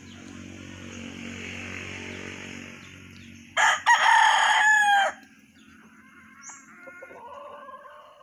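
Gamecock stags on free range with a loud nearby rooster crow lasting about a second and a half, set against lower background clucking and farmyard murmur, then quieter scattered clucks afterward.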